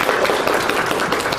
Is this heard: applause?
yes